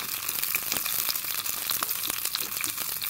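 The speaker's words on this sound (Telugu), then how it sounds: "తాలింపు వేసుకోవటానికి నూనె వేడెక్కింది, ఆనియన్ వేసాను." Onion sizzles and crackles steadily in hot oil with dense, bright popping, continuous and close, no voices.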